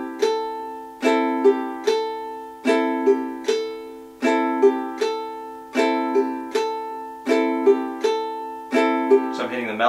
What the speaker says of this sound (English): If I just do for my melody note right now, the open first string, it sounds like this.